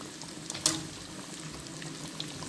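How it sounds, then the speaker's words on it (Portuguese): Fish frying in oil in a wide, open pan, a steady close sizzle and crackle running throughout with one sharper pop near the start, no talking. "Não pode fritar muito rápido, porque o peixe tem que fritar por dentro."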